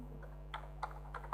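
Computer keyboard typing while working in a Microsoft Office Word 2007 document: a few sparse, faint key clicks spread over a moment, alone over a steady low hum.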